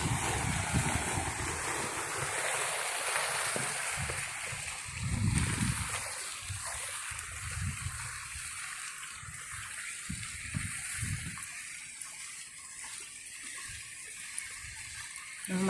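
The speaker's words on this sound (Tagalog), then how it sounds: "Fountain." An outdoor water fountain splashes continuously, a broad rushing spatter with wind buffeting the microphone and occasional low gusts, no voices over it.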